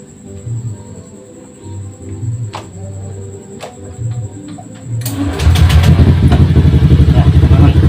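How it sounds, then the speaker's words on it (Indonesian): Birds coo softly before a Honda Beat ESP scooter starts at about five seconds and settles into a loud, steady, fast-pulsing idle, close by. "Sekarang saya akan coba starter."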